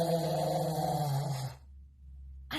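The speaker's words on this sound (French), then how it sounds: "Un éléphant dormait dans la savane. Il ronflait très fort." A loud, drawn-out snore from a sleeping elephant in the savanna, used as a story sound effect: a deep, rough growling breath that cuts off abruptly, followed by a short quiet pause.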